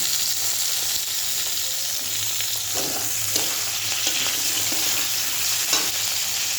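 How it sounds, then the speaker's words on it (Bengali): Large cut potato pieces frying in a pan, a continuous close sizzle with a few soft stirring knocks, no voices. "আমি এই বড় সাইজের একটা আলু কেটে রেখেছিলাম, আলুটা দিয়ে দিলাম।"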